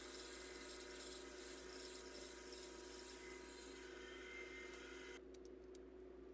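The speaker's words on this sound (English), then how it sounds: "I've got a little baby oscillating spindle sander that's going to just clean that up and make it look real nice" Small oscillating spindle sander smoothing curved cuts on wooden workbench legs, a steady, close hissing whir that stops abruptly near the end.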